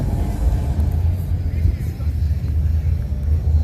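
A Corvette rumbles past at a spring hot rod weekend in Ocean City, Maryland, its deep, steady engine drone close and loud for a few seconds, with faint background hum.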